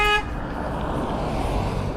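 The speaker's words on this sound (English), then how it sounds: "Literally no reason to honk." A car horn gives one short, loud toot at the start, then gives way to steady road and wind noise heard from a moving electric dirt bike.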